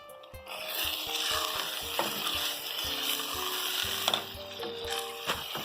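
Spiced handi kabab curry frying in a pan, a loud continuous sizzle layered with rhythmic stirring scrapes and brief utensil knocks, heard alone without voices.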